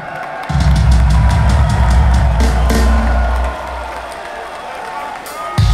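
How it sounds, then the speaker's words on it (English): Stadium concert crowd in Moscow at a hip-hop show, a dense roar of applause, cheers and whoops with heavy low rumble, swelling loudly and holding before easing off. "Give yourselves a round of applause tonight."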